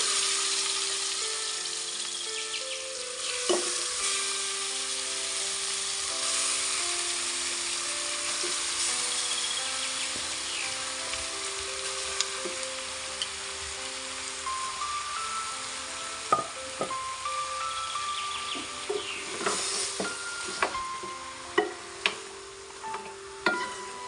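Buffalo meat dropping into hot mustard oil with onions, a soft continuous sizzle under scattered scrapes and clinks of a stirring spoon against the pan, growing busier toward the end.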